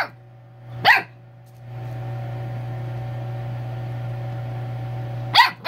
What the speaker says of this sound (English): That's her barking.